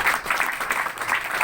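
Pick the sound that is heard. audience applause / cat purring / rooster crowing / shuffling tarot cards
audience applause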